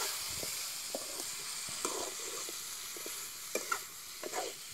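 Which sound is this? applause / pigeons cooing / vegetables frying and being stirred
vegetables frying and being stirred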